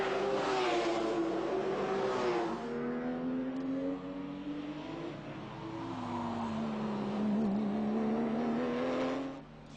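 Roscar race cars lapping at Magny-Cours in a 2009 race, engines droning loudly and steadily with rising and falling pitch as they accelerate and pass, continuous throughout with no voices.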